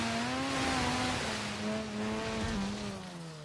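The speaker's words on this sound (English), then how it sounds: "Just banking her off the rev limiter, not even a care in the world." A Mazda RX-7 in Forza Horizon 3 bouncing off its rev limiter, a loud sustained high engine drone that holds near one pitch and dips slightly with brief stutters, accompanied by light tire noise.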